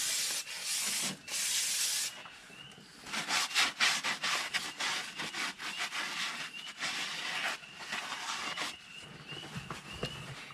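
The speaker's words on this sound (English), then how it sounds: "All right, so let's hit it with a little brake clean." Brake cleaner hisses in bursts onto brake parts of a Nissan Sentra during front strut work, alternating with close rubbing and wiping; the sprays come in short loud blasts between scrubbing.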